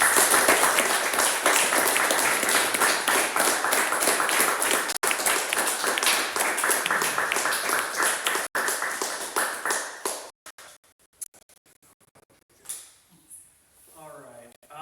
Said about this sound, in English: another round of applause for Julianne King